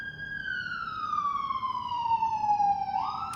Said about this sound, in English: Sorry about those sirens